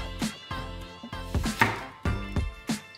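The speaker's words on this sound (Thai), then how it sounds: "เราจะหั่นมะเขือยาวให้บางแบบนี้นะ" A kitchen knife cuts thin slices from an eggplant on a cutting board, giving about half a dozen close, crisp chops at an uneven, steady pace.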